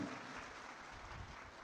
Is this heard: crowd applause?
yes